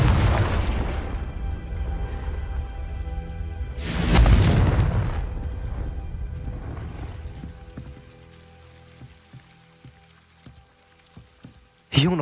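A loud magical fire blast from the Confringo spell in the Hogwarts Legacy video game, a single booming burst swelling mid-clip amid a rain-like ambient wash, followed by faint scattered clicks and a sharp hit at the end.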